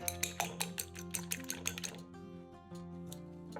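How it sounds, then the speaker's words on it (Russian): An egg being whisked with a fork in a deep plate: quick, rhythmic clicking taps of the fork against the dish for about two seconds, over quiet background music, then the tapping stops. "В глубокую тарелку разбиваем одно яйцо, взбиваем его вилкой."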